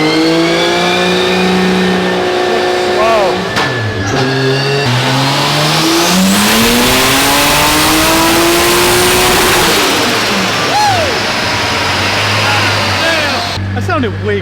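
A built 2JZ engine in a tuned car revs hard on a dyno at full throttle, a loud sustained roar climbing and falling in pitch with whining harmonics, continuous across the whole stretch, with people talking underneath.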